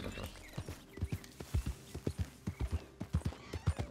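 Horse hooves clip-clop in a steady, even walking rhythm in the video game Red Dead Redemption 2, close and fairly quiet, with a faint sustained tone in the background.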